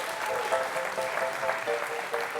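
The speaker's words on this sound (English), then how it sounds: "Give Phoebe a huge round of applause, please." Audience applause at a magic show greets a volunteer coming up on stage, a dense, steady wash of many hands clapping, moderately distant and unbroken for the whole stretch.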